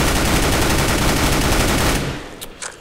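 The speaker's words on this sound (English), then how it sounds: "this isn't, you know, no recoil control, this is just shooting" Sustained automatic fire from an M4 rifle in Counter-Strike: Global Offensive, loud and dense for about two seconds, then cutting off into a few faint trailing clicks and echoes, with no talking.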